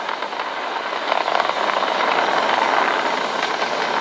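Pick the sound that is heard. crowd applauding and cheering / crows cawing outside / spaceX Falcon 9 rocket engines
spaceX Falcon 9 rocket engines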